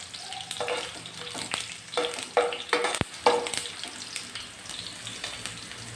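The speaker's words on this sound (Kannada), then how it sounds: "ಒಂದು ಗೆಡ್ಡೆ ತೊಗೊಂಡಿದ್ದೀನಿ, ಸ್ವಲ್ಪ ಕೆಂಪಾಗಬೇಕು ಬೆಳ್ಳುಳ್ಳಿ." Crushed garlic frying in hot oil in a pan for a vegetable upsaru, a steady close sizzle with occasional stirring scrapes and clatters, no talking.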